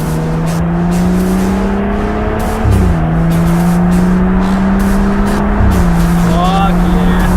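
BMW F30 335i with an Agency Power exhaust revving and pulling away, a loud, close engine drone that rises in pitch and drops at two gear shifts, with people talking over it.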